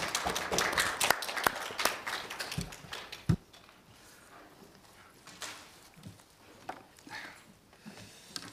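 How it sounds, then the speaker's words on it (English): A short round of applause for the speakers at a Council of Europe parliamentary side discussion, quiet clapping for about three seconds that fades to a few scattered claps and room noise. "And a round of applause to our speakers."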